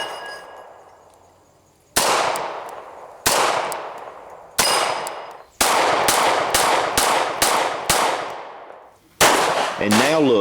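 A Beretta pistol fires 9mm HPR ammunition in a series of sharp, loud gunshots, first spaced singly then in a quicker string, each with a short ringing decay; no talking.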